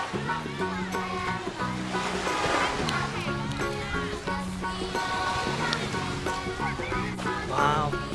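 Sea waves roll in at Bang Saen beach in a continuous surf roar, overlaid by lively voices and children's chatter close by.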